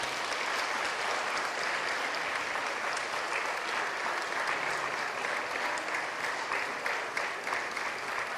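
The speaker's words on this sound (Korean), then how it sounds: "큰 박수로 격려해 주시기 바랍니다." Church congregation gives sustained, even applause during a flower-presentation ceremony at a service, a dense continuous patter of clapping with no speech over it.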